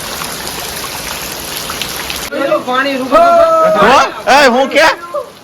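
Unseasonal rain falls in a steady, close hiss that is heard alone at first, then continues under someone talking.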